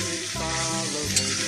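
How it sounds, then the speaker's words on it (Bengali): Meat and spices sizzling loudly in a pan during kasha, a steady close fry with a brief stir and one small sharp click near the end. "এখানে এখন কষানো চলছে"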